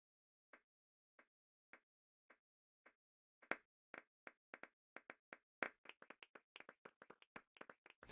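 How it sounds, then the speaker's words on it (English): A slow clap in the Final Fantasy VIII Remastered video game: single claps spaced evenly at first, then more hands join and the clapping speeds up into a quick, scattered patter, all fairly faint. "The slow clap."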